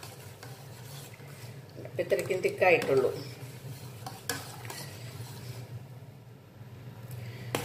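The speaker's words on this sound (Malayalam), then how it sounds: "അതിന് വേണ്ടി നമ്മൾ സിമ്മിലിട്ടിട്ട് ഇളക്കിക്കൊണ്ട് നിൽക്കണം." A thickening kanafeh mixture of cornflour and maida is stirred in a pan over low heat, with soft scraping and stirring sounds beneath someone speaking, and a brief louder burst of scraping midway.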